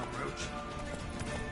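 Hooves of Roach, the horse in The Witcher 3: Wild Hunt, clip-clop briefly in a quick rhythm over busy in-game background sound.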